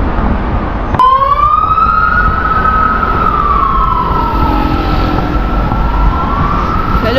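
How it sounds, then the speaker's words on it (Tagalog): An ambulance siren on a street in Korea starts abruptly and wails in a loud, close, slowly rising and falling tone over steady traffic rumble. "sirena ng ambulansya"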